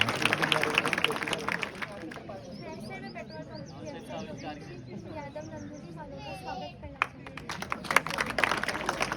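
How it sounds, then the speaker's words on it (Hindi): Schoolchildren and guests in a school courtyard clap loudly at the start and again near the end, and lively voices and chatter fill the gap between the bursts. "इसलिए जोरदार तालियां"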